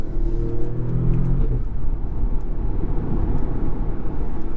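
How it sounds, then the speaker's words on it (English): A 2017 Audi S3 engine revs and then drops off with a rumbling exhaust and DSG gearbox farts, followed by steady road and engine roar, loud and close throughout. "Get some nice DSG farts from this car."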